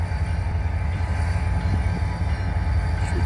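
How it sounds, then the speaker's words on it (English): Norfolk Southern freight train 237 idling and switching in Greenville Yard, with GE locomotives nearby; a steady deep rumble of diesel engines holds close and loud throughout, with faint metallic clanks. "Switching Greenville Yard, that's its train right there."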